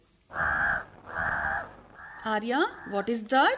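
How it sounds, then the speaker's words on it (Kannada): Two harsh, drawn-out crow caws from a played bird-sound recording, loud and close, followed by a voice speaking. "That is a crow."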